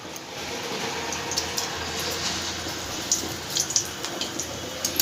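Dried red chillies sizzle in hot white cooking oil in a wok, a steady close crackling hiss with small spits and pops growing near the end.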